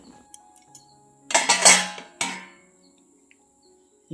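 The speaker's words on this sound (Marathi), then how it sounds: "एक मिनटं मी जरा झाकण काढते" A lid lifted off a cooking pot of freshly made upma with corn kernels, giving a brief metallic clatter and scrape followed by a second clink, close by in a quiet home kitchen.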